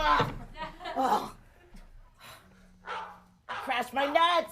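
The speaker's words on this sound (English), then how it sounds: "I think the barking of those dogs signifies" Dogs bark in short bursts amid a rowdy studio audience, with laughter and voices mixed in around them.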